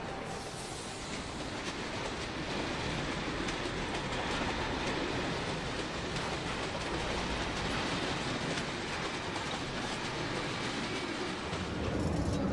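A V65-class diesel locomotive rolls along the track with a steady, heavy rumble and rhythmic clatter of wheels, continuous and fairly loud throughout.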